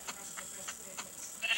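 Sheep in Minecraft give short, faint bleats that repeat at a steady quick rhythm, with no talking over them.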